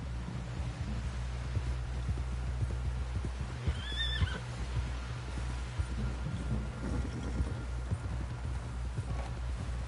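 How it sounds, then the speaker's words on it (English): A horse whinnies once over steady clip-clopping hooves and a low rumbling background. "Someone help John down off this horse"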